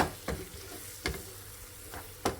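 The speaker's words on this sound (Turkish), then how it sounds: "Hemen hızlı hızlı karıştırıyorum topaklanmasın. Beraber tekrar kavuruyorum." Peppers being stirred in a frying pan, with three spoon scrapes spaced across a low, steady sizzle; no talking.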